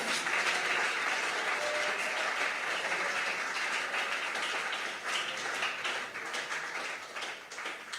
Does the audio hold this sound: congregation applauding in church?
yes